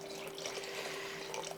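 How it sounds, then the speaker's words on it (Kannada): A cup of water pours into a pot of cowpea uppittu with a brief, quiet splashing trickle lasting under two seconds, over a faint steady hum and no speech. "ನಾನು ಇನ್ನೂ 1 ಕಪ್ ನೀರನ್ನ ಆ್ಯಡ್ ಮಾಡ್ತೀನಿ ಇದಕ್ಕೆ"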